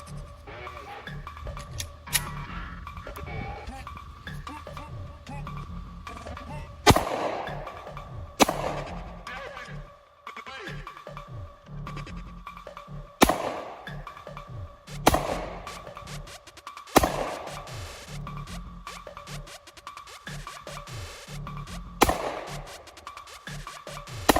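Sharp, loud shots from a Smith & Wesson P320 9mm handgun, about six reports spaced irregularly over roughly twenty seconds, each cracking out and decaying over a steady background hum.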